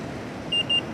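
Pedestrian crossing push button giving two short, high electronic beeps in quick succession, close and distinct over steady street traffic noise.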